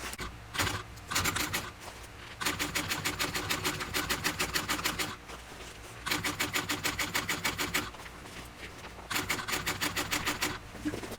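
A sewing machine running fast stitches along a backpack seam in several bursts, a dense rapid mechanical chatter that starts, pauses briefly and resumes, close and fairly loud with short quiet gaps between runs.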